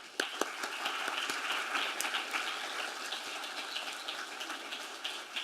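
A crowd gives sustained applause to welcome a speaker at a humanities event, dense clapping at moderate level throughout with a few sharper individual claps.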